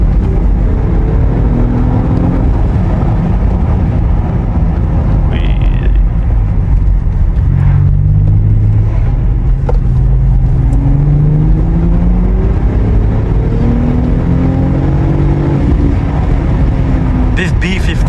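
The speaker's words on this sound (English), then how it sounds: "This B58 along with the hybrid motor, they just work so well together." A BMW with a B58 engine and a hybrid motor accelerates on an icy private road, a loud steady engine drone rising in pitch through gear changes, with a person talking over it.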